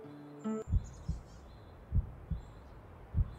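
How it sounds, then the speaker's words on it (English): Heartbeat in the video game OMORI: a brief electronic chime, then about five deep, soft thumps, loosely paired, each distinct and close, with no speech. "Oh, now it's just heartbeats."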